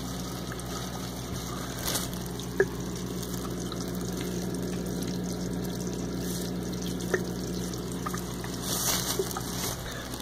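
A small DIY mushroom-style aquarium filter pump moves water, a faint steady hum with soft trickling and a few light splashes, quiet and without talk.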